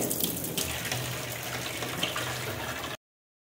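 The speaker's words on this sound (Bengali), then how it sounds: "এখন আবার জল চালিয়ে দিয়েছে।" Water runs steadily from a household tap into a sink, a continuous close splashing rush that stops abruptly near the end.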